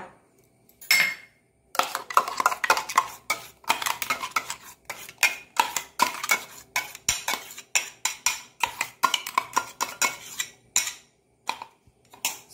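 Ground masala paste for a jowar flour cucumber dosa being scraped from a grinder jar into a vessel, with repeated close metallic clinks and scrapes of a spoon against steel in quick uneven bursts, no talking.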